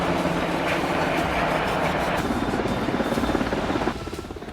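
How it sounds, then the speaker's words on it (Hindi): An AgustaWestland EH-101 helicopter lands commandos on a warship, its dense, loud rotor thump and engine drone continuous throughout and easing slightly near the end. "यह है अगस्टा वेस्टलैंड का EH-101 हेलीकॉप्टर"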